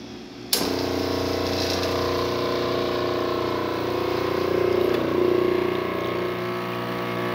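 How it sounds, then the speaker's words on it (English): A La Cimbali Junior espresso machine pulling a double shot starts with a sharp click, then hums and buzzes steadily as its pump pushes water under pressure, loud and constant with a slight swell midway. "La Cimbali Junior, and I'm going to select the double shot"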